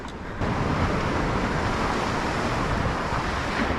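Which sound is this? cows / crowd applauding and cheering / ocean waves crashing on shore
ocean waves crashing on shore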